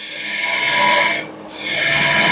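Steady grinding rasp of a metal lathe taking a cut 1/8 inch deeper around a workpiece, running close and continuous with a brief dip in the middle.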